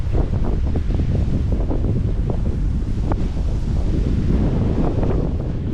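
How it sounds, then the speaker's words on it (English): Strong wind at Dover, Tasmania, looking across to Bruny Island, buffeting the microphone with a loud, constant low roar and rumble, gusting unevenly throughout; no voices. "Bit windy, so I hope you can hear me over the wind."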